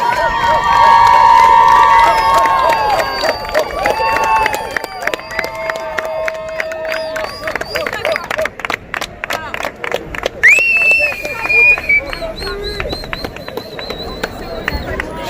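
A street protest crowd marches along, with dense shouting, chanting and overlapping voices throughout, a whistle-like tone cutting through near the middle, and a steady loud wash of moving people close by.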